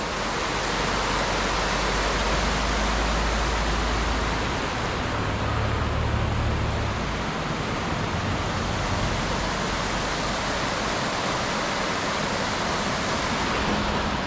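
Fast-flowing glacier river rushing in a steady, loud broadband roar, continuous throughout with a deeper low rumble swelling briefly midway, no voices.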